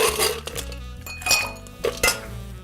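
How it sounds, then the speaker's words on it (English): Ice dropped into a mixing glass while building a cocktail, giving several close, bright clinks and rattles of cubes against glass, with a few sharper hits scattered through the short stretch. "Now next, we're gonna add to our mixing glass some ice."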